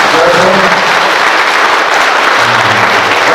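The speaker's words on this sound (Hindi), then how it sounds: "जब जब हम ताली बजाते हैं परमेश्वर की स्तुति होती है।" A congregation at a church service claps hands together in praise, producing a dense, loud, continuous wash of applause that fills the whole stretch without pause.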